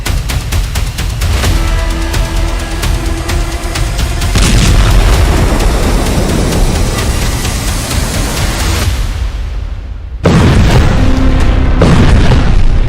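Heavy booming blasts from bomb and rocket strikes in Beirut roll continuously as a dense, loud rumble, with a sharp jump in intensity near the end after a brief dip.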